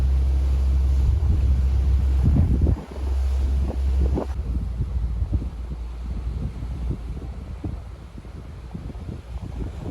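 Strong wind buffets the microphone on the outdoor deck of the Gourock to Dunoon ferry in Scotland, a steady, roaring rumble, with a low engine drone and rushing water underneath.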